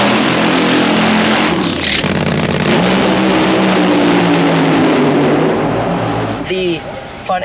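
A funny car drag racer in the staging lanes at a drag strip in Indy: a loud, close engine roaring and revving steadily, pitch shifting, then dropping off near the end, with voices talking over it.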